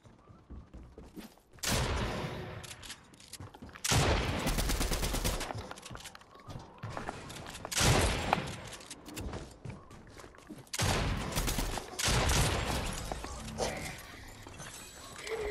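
Gunfire in the video game Fortnite comes in several loud, dense bursts of rapid shots separated by brief lulls, with a faint voice here and there.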